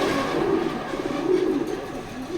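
Racing pigeons from a loft coo steadily up close, their soft, throaty rolling calls repeating in overlapping waves with no talk.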